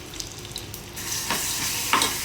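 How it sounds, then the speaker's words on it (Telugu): Ridge gourd peel chutney sizzling in a hot tempering of dried red chillies and curry leaves, a steady close crackle with a couple of brief louder hisses as it is stirred. "ఇందులో పెట్టుకొని కొద్దిసేపు అలా ఫ్రై చేయొచ్చు"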